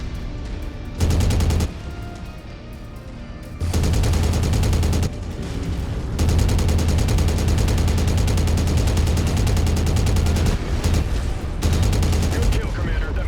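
Sustained bursts of machine gun fire from battle mechs in the MechWarrior video game, loud and continuous with brief gaps, joined by heavier booms of other weapons.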